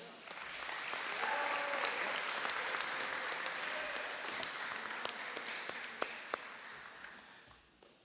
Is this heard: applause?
yes